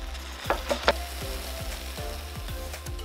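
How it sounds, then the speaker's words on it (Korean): Cooked sweet potato jam in a pot being mashed and stirred with a spatula; soft bubbling sizzle under repeated scraping strokes and a few sharper clacks, close and steady, with no talking. "익었으면 주걱으로 으깨가며 저어주고 수분을 날려준다."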